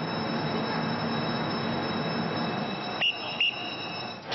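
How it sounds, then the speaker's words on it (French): Rush-hour trains rumble through Gare du Nord station in Paris, a continuous loud roar with high-pitched wheel squeal and two brief sharp screeches near the end. "À la gare du Nord, c'est l'heure de pointe."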